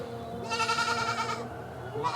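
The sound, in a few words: goat bleating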